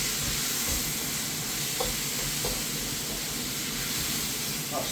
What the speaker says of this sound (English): There, sizzling away quite nicely.